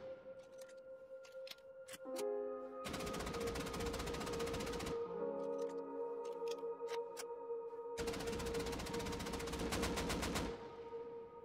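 Uncontrolled automatic gunfire in the video game Rust comes in two long, dense bursts of rapid shots, with a few isolated single shots before them and a lingering hum between.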